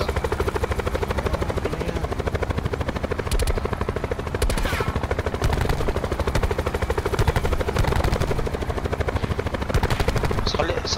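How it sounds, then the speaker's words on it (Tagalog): A helicopter in the Call of Duty Black Ops 4 Blackout game thumps with fast, steady rotor chop throughout, loud and close, with scattered bursts of game gunfire and players talking over it. "May helicopter din dito."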